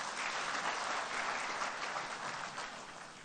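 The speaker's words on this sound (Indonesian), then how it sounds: "Tepuk tangan hadirin sekalian." Sustained applause from the audience at the Nasdem party's 10th anniversary event, a dense, steady wash of many hands clapping at full strength that fades slightly toward the end, with no talking over it.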